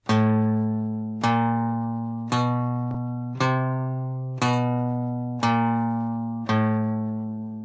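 An electric guitar plays the spider finger exercise, a slow sequence of sustained single notes, about seven evenly spaced plucks, each ringing out and decaying before the next.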